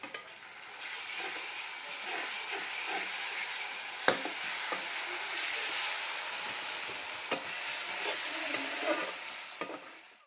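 Chilli paste, stone-ground with garlic and salt, frying with onion in a pan for a wild amaranth (tandulja) vegetable dish: a steady close sizzle with occasional sharp stirring clinks and scrapes.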